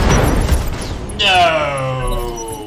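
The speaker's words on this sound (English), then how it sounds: "He blew up on his turn with ammo explosion." A mech's ammunition cooking off in the BattleTech video game (RogueTech mod): a loud burst of blasts followed by a ringing, descending whine that fades over a couple of seconds.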